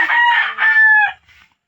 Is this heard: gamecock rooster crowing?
yes